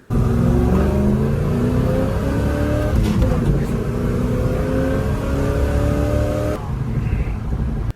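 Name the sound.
car engine revving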